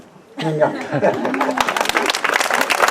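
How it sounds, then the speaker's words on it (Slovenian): An audience at an outdoor church mass in Zgornja Ložnica bursts into applause after a brief spoken line, the clapping building quickly and continuing as a lively, dense patter with light murmurs. "en velik aplavz za skupino deklic Ninja"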